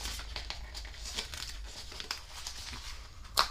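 A paper tab on a handmade Santa wallet card is pulled and torn away, giving soft, continuous crinkling and rustling that ends in a sharp, louder rip near the close.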